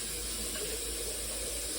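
Steady running water from a tap filling a water bottle, a continuous close hiss and splash with no talking over it.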